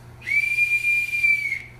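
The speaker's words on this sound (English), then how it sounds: "when you hear this whistle, you know a train's coming, right?" A single steady whistle blast, clear and fairly loud, sounds for just over a second as a signal over a low background hum.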